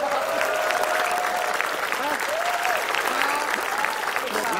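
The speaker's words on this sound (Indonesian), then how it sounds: "Tepuk tangan dong." A studio audience at an Indonesian comedy game show bursts into sustained applause, steady, dense clapping from a large crowd that fills the whole stretch, with some laughter and background voices mixed in.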